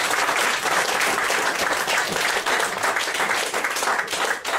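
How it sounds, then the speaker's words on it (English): Audience at a magic show applauding a volunteer called up on stage, sustained loud clapping from a full crowd, easing slightly near the end. "give me a round of applause"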